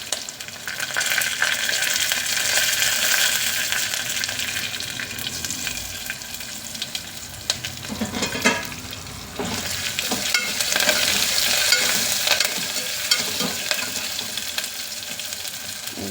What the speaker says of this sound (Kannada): ಈಗ ಬ್ಯಾಡಗಿ ಮೆಣಸು ಹಾಕ್ಕೊಬಿಡೋಣ.